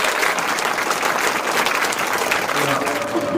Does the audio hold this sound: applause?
yes